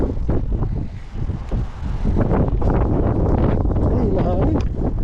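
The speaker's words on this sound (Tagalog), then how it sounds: "Ay, mahangin" Gusty wind while out fishing buffets the microphone in loud, rumbling bursts, with faint voices mixed underneath.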